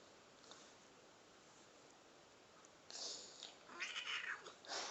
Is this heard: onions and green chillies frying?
no